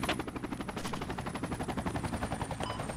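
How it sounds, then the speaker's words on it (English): Rapid sustained automatic gunfire from the video game Project Reality in an urban city battle, a steady rattle of shots running throughout, loud and unbroken. "Taking fire, enemy fire."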